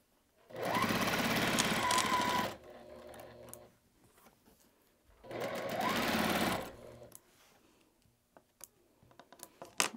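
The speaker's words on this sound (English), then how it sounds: "I'm just gonna sew this corner unit." A sewing machine stitches together quilt half square triangles in two steady bursts of about two seconds each, close and loud, with quiet handling and clicks between runs.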